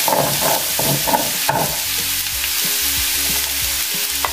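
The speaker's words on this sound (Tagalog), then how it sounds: "Ngayon, ilagay naman natin yung chicken breast." Chicken breast hits a hot pan of frying spring roll vegetable filling and sizzles loudly and steadily, with stirring scrapes and clacks of the spatula in an irregular rhythm.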